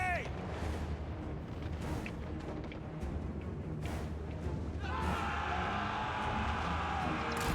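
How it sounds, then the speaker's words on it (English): Mortar rounds firing and landing in a Total War: Warhammer 3 battle, heard as a continuous rumbling barrage with scattered thumps and distant booms. Voices and a rising wash of battlefield noise run over the bombardment. "we're going to be taking some of their own shots from the mortars"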